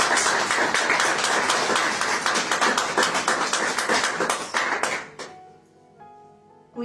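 Congregation applause at a church service, a loud crowd of clapping hands holding steady for about five seconds before quickly dying away into near quiet.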